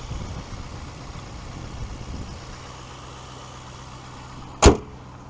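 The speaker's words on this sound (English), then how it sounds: "And there's that 4-liter twin turbocharged V8." A 2022 Audi RS7's 4.0-liter twin-turbo V8 idles on a cold morning around 25 degrees, giving a steady low rumble that runs throughout, with one sharp click near the end.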